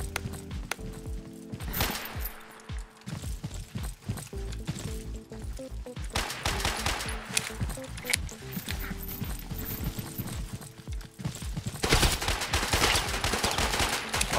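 Rapid bursts of pistol gunfire in a video game crack repeatedly, some clustered shots and scattered single pops, with a busy background of clattering effects.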